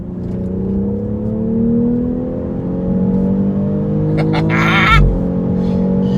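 A BMW X3 M40i engine revs loudly and climbs steadily in pitch as it accelerates hard in sport mode, with a brief whoosh and thump near the end.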